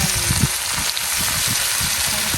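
Vegetables sauté in a hot pan for pancit guisado, giving a loud, steady sizzle with rapid crackling spatters and light stirring scrapes close by.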